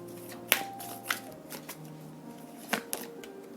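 Tarot cards being shuffled by hand: a few crisp, papery riffle snaps and soft slides spaced over a quiet room, close and fairly faint, with no talking.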